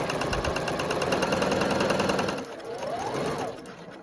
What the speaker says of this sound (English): I'm going to do a couple of reverse stitches, and I'm going to gather all the way down to the end of this piece of fabric